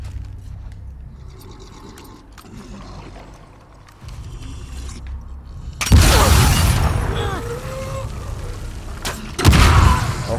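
In the video game The Last of Us Part II, a sudden loud blast bursts in and rumbles on with crackling debris, followed by a second heavy boom near the end, after quieter clicking and mechanical sounds.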